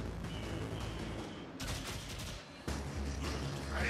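Continuous gunfire in the video game Warframe, a dense, loud stream of shots with sharp changes in intensity, running with no talking.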